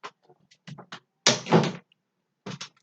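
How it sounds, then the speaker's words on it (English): A door swings shut with a solid thump midway, set between bursts of indoor conversation before and after. "Just close the door there."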